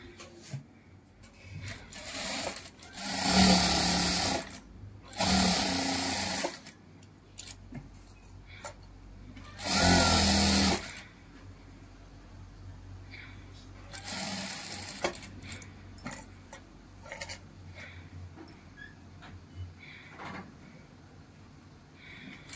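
A sewing machine stitches lace onto fabric in several short bursts of fast, rattling whir. Each run stops and starts again, with quiet pauses, clicks and handling noise between runs. The machine sounds close, and a voice is faintly present at times.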